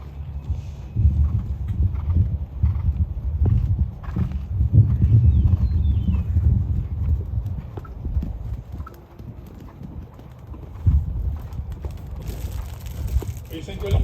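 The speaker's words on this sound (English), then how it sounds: "If you look at the horse now, I think we can see a lot of balance in the canter." Horse cantering in an arena during a jumping presentation, with steady rhythmic hoofbeats on the ground close by, even and repeated, under a background of people talking.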